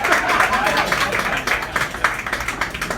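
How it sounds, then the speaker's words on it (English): A live comedy crowd keeps applauding for a comedian, steady dense clapping throughout with a few louder individual claps toward the end. "All right, keep clapping"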